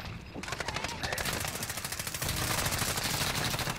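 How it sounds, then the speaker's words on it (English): Mounted turret machine gun firing in Call of Duty Warzone: a rapid, steady stream of loud automatic shots after a brief quiet start, continuing unbroken to the end, with faint voices underneath. "Get on their turret and kill him."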